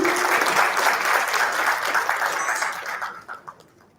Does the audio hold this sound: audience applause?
yes